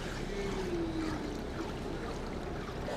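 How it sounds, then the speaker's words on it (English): Hot forged steel slot punch plunged into a water quench, giving a steady hissing, bubbling rush with a brief sharper sizzle near the start, moderately loud and continuous throughout. "go ahead and quench the whole thing"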